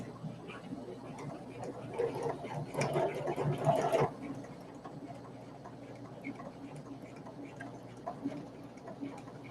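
A sewing machine runs a zigzag stitch in one short, fairly quiet burst of about two seconds, followed by a low hum and faint ticking.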